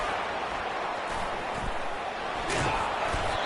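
Stadium crowd roaring during a college football punt return, a dense continuous wash of cheering that swells loud throughout with no voices standing out.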